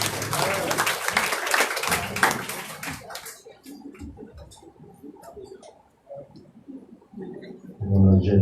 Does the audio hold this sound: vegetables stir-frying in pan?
no